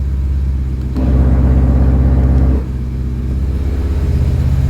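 A BMW E90 M3's exhaust idles with a deep, steady burble, swells louder for about a second and a half as the exhaust valve opens, then settles back to a lower rumble, close and without talk.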